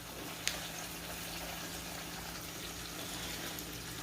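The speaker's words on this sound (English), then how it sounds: "Now I'm just going to add in about 2 cups of milk." Milk poured into a pan for sausage gravy, a steady liquid pouring and gushing wash that holds evenly for the whole stretch with one small clink near the start.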